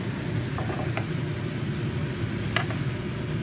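Chicken for shashlik cooks in a pan: a steady, broadband sizzle runs throughout at moderate loudness, broken by a couple of faint clinks from utensils, with no one speaking.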